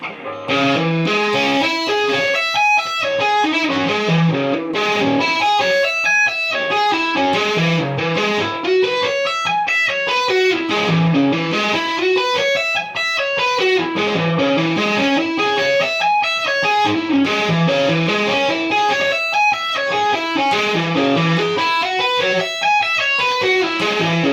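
A distorted electric guitar plays a repeating string-skipping and tapping lick at a slow, even pace, with sustained, effect-laden notes rising and falling in a steady cycle.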